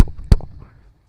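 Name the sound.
deepened beatbox kick drum imitation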